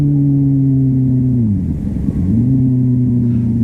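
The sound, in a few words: motorcycle engine revving with throttle blip during downshift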